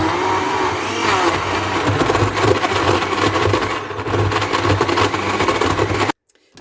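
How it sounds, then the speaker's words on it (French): A kitchen blender whirs steadily for about six seconds, mixing a natural drink of blended ingredients with a glass of water, loud and continuous before cutting off abruptly. "Voilà, je vais mixer le tout"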